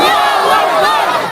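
A large crowd at a Bangla waz mahfil bellows a takbir chant in unison, answering the preacher; one loud, sustained collective shout that swells again at the very end.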